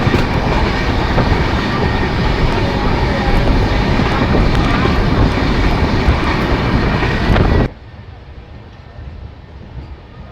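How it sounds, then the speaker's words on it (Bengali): Brahmaputra Mail express on the Kamakhya–Delhi route rushing through a small station at speed: a loud, steady roar of wheels and rushing air that cuts off abruptly near the end, leaving a quieter rumble. "আর এখন ট্রেন কোনো একটা ছোট স্টেশন স্কিপ করছে"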